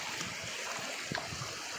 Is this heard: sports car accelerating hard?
no